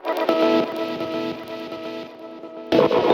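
A chopped, tonal synth-like sample processed with delay, OTT compression and reverb repeats with echoing delay and a reverberant wash, cutting out briefly before a louder burst returns at the end.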